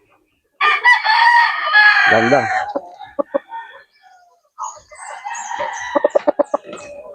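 Roosters crow and hens cluck loudly at a backyard gamefowl breeder's yard, with a long crow up front and sharp repeated clucks later, while someone talks nearby.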